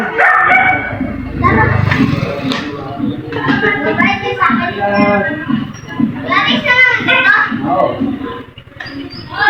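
A dog barks and yips amid children's chatter and shouting, close by and fairly loud.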